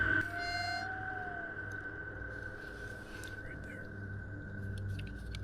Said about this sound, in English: That one almost sounded like a wolf.